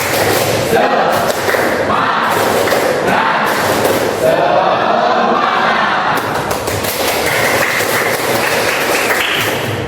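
Students in a classroom do a rhythmic spirit clap, loud and close, with dense group clapping and thumps coming in regular bursts, plus a few shouted voices over the top.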